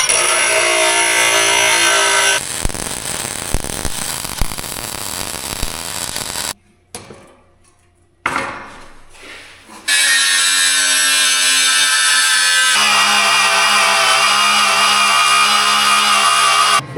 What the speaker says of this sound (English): I'll have to grind these corners down